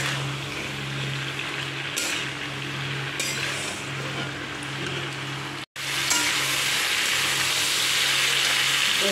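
Pumpkin green stalks fry with shrimp in a home kitchen pan, giving a steady, close sizzle with a faint underlying hum. Occasional clinks and scrapes come from stirring with a utensil, and no one speaks.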